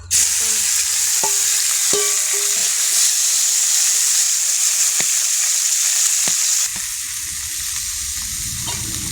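Pangas fish fries in a pan with a loud, steady sizzle and hiss, and a utensil knocks and scrapes against the pan a few times while the food is stirred.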